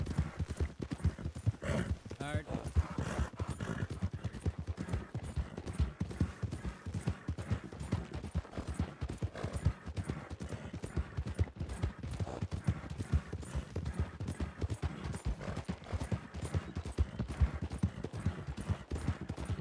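Horses pull a wagon along a road in a Wild West role-play video game, hooves clip-clopping in a steady, dense rhythm for the whole stretch, fairly close, with faint voices now and then.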